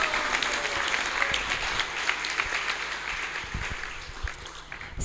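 Audience at a Sunday love feast gathering applauds after a class, a sustained wash of many hands clapping at moderate volume with sharper individual claps throughout.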